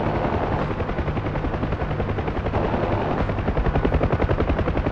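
Huey helicopter in DCS World, its rotor beating steadily and loudly throughout while door guns rattle off rapid bursts over the top.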